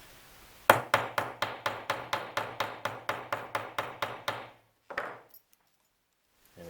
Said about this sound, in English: If you find it's not riveting in firm enough, just make sure you place a little anvil underneath your rivet.